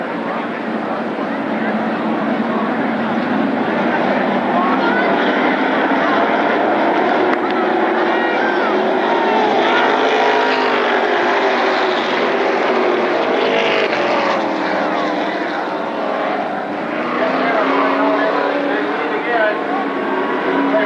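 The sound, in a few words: late model race cars racing at Berlin Raceway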